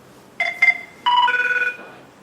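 A telephone rings with short electronic tones: two quick chirps, a pause, then a longer warbling ring that fades, heard clearly and alone.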